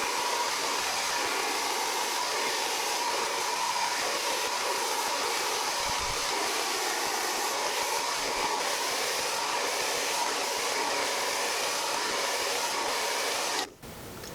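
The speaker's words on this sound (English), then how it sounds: "So I am just going to blow dry my hair." A handheld hair dryer blows steadily and loudly while hair is dried, a continuous airy roar that holds almost unchanged for over thirteen seconds before cutting off near the end.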